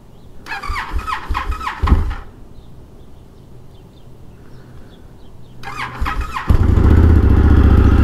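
An Indian FTR 1200 motorcycle being started with the key: two bursts of starter motor whirring and cranking, a quiet pause between, then the engine catches and settles into a loud, steady idle close by.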